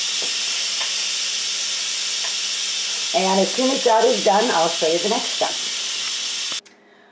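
Steam hisses steadily and loudly from an Instant Pot during a quick pressure release while cooking acorn squash, a voice talks over the venting partway through, and the hiss cuts off abruptly near the end.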